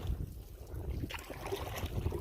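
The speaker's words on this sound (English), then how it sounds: "getting caught in that wind again" Gusty wind buffets the microphone while a canoe is paddled upstream on a river in a provincial park, a steady rushing roar with low rumbling bursts and faint water sounds throughout.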